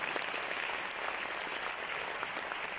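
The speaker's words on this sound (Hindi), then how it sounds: "मेरे ताऊ जी के लिए जोरदार तालियां" Steady, dense applause from a seminar audience at a motivational program in India, many hands clapping continuously at a moderate distance with no voices on top.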